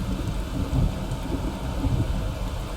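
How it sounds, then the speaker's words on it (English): Rain and rumbling thunder in the Skyrim video game, a steady loud downpour hiss with deep low rolls of thunder swelling twice, heard alone with no talk. "Miserable rain."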